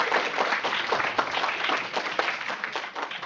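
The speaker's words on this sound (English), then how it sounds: "let's give them a round of applause" An audience at a STEM education program event gives a round of applause, dense even clapping sustained for a few seconds at moderate, slightly distant level.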